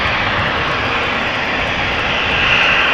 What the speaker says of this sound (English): That is KLM flight 1983.